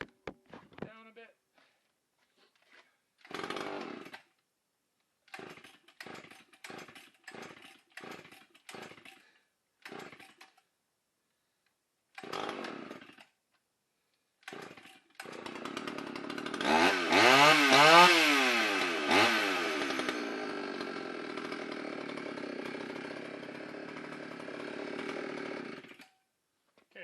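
Chainsaw sputtering after carburetor cleaner was sprayed into it: short bursts and pulls, then a loud rough run that swells and holds near the microphone before fading unevenly.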